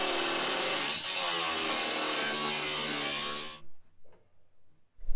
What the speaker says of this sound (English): I'm gonna have to cut inside there and just cut it all the way across too